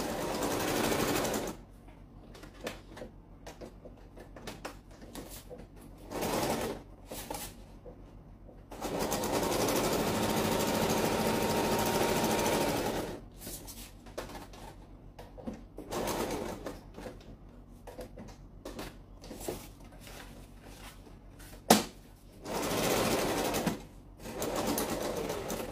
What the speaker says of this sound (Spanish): Vamos a coser en el centro.